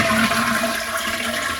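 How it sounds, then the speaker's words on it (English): A household toilet flushes with a replaced flush lever, giving a loud, steady rush of swirling water right up close with no voices over it. "Back up front and one more flush."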